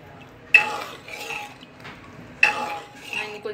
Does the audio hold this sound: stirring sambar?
yes